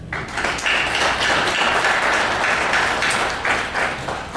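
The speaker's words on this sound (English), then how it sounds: "Big round of applause right there." Applause from an audience at a civic planning event in El Paso, a close, steady round of hand clapping that swells quickly and carries on evenly before tapering slightly.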